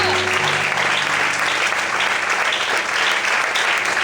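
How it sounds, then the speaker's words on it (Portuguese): Loud, sustained applause from a large church congregation, dense clapping filling the whole stretch with no pauses. "dá um glória bem alto e aplauda ao Senhor"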